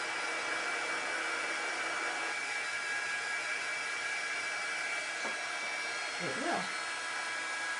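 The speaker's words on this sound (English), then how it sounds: "I'm just drying the silkscreen area" A hair dryer blows steadily to dry a silkscreen area prepared for chalk paste in a craft project, a loud continuous whoosh running throughout, with a brief voice near the end.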